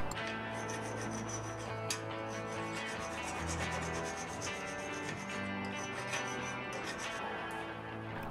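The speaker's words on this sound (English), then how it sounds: "Any burrs I can clean off with a file." A metal file rasping back and forth over the cut end of a hacksawed metal rod to remove burrs, a continuous close scraping that holds steady throughout with no talking.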